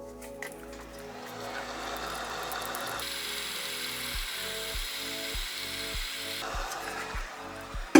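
A heat gun warms a replacement grip on a DJI FPV drone radio controller. Its fan and motor give a steady close hum with a broad hiss, and a few soft taps and handling noises come through underneath.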